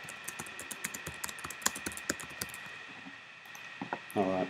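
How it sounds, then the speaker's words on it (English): Fingers type on a computer keyboard while writing HTML text, giving soft, irregular key clicks close by at a low level, with a brief burst of speech at the end. "I'll just write some text here."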